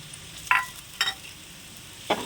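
Onions fry in a pan for a paneer curry, giving a soft continuous sizzle broken by three brief scraping or clinking stirs of a utensil.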